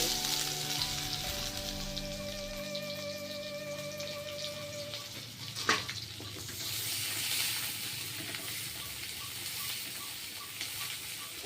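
Whole cumin and chopped onion frying in a pan for a fish curry, a steady broadband sizzle that swells after a brief clatter, with a faint tonal hum fading out early, no talk.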